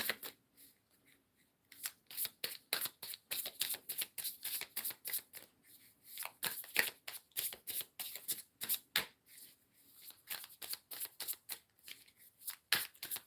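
Tarot cards shuffled by hand in a reading, rapid riffling bursts in quick irregular clusters with brief pauses, close and crisp, no talking.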